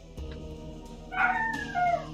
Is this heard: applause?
no